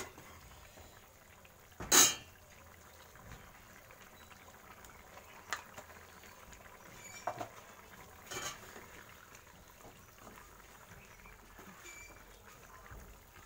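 Prawn and soybean curry boils gently in a pan with a faint, low bubbling, broken by one sharp clink early on and a few soft ticks and pops.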